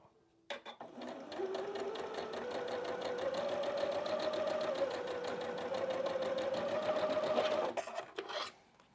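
A home sewing machine stitches a quilt block for a snowman face, running in one sustained steady whirring burst of rapid needle chatter for about seven seconds, close and loud, with no talk.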